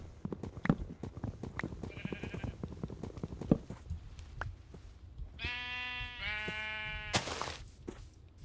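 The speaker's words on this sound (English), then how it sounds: "Sheep sure are noisy." Sheep in the Minecraft video game bleat in several short, harmonic cries after a stretch of clicky gameplay noise, with one higher, brighter bleat near the end; loud and close with no talking over them.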